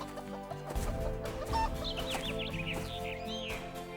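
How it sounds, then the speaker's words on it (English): A hen clucks and chatters close by in an animated children's story, with a short run of calls breaking over quiet background music. "went out to feed the hen"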